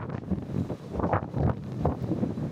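Strong wind roars across the open deck of the Sapphire Princess cruise ship at sea, with a hurricane nearby. Gusty buffeting and rumbling hit the microphone in a brief, dense burst.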